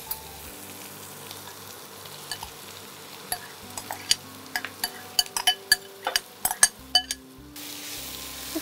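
Raw pumpkin frying in a pan with shrimp, stirred with a utensil: soft sizzle under a run of sharp, irregular scraping clinks that grow busier toward the end, then fade to faint hiss.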